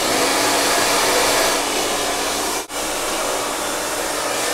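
A hair dryer blows hot air during a brush blow-dry, a steady loud broadband whoosh that dips briefly for a moment midway, then resumes at full strength.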